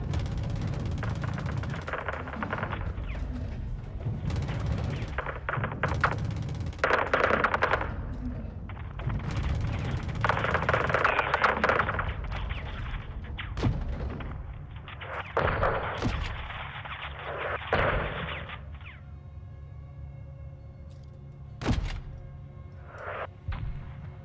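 Artillery strike in the video game Modern Warfare 2 hitting a convoy: a dense run of heavy booms, rumbling blasts and rattling gunfire that swells and fades in waves, then sharp isolated cracks over a quieter rumbling tail.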